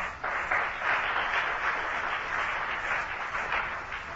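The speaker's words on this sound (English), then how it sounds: "Let's clap our hands for the Lord tonight." A church congregation clapping hands during a service, a fairly quiet, even wash of clapping that swells slightly and then tapers off toward the end.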